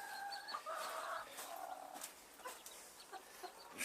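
A mother hen with her chicks on an allotment, with soft clucking and some higher chick-like calls. The sounds are faint and intermittent over quiet background noise, and no one speaks.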